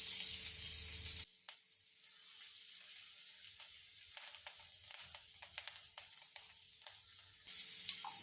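Chopped ginger, garlic and green chillies frying in hot coconut oil, a soft close crackle and sizzle with small pops and stirring scrapes, set between two louder, brighter bursts of frying at the start and end.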